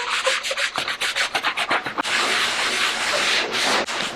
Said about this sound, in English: take your 120 grit sanding block and lightly work your way across the patch